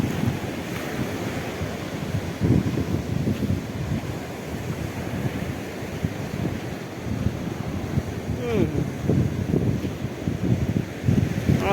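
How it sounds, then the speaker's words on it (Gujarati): A stormy sea shore with strong wind, surf rumbling and washing in repeated surges while gusts buffet the microphone throughout, with no one speaking. "મિત્રો આ દરિયો છે"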